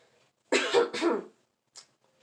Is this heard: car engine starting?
no